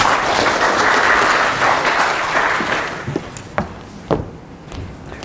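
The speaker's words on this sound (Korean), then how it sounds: "모두 박수 부탁드립니다." Audience applause at a Python developer conference talk, dense clapping from a large crowd that tapers off into a few scattered final claps and taps.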